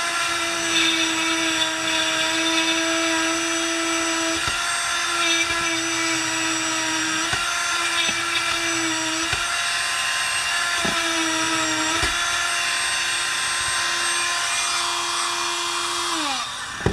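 A power drill whines at a steady pitch while drilling a hole in a plastic coil flange, stopping and restarting several times in short bursts, then winding down at the end.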